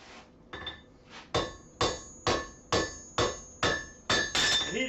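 Blacksmith's hammer striking metal in a steady rhythm, about nine sharp ringing blows spaced roughly half a second apart, loud and close with a bright metallic ring after each hit.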